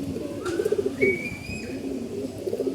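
Flying pigeons coo nearby in short, bubbling rolls of low notes, with one burst early, a louder one near the middle and another at the end, while thin whistling calls from other birds drift overhead.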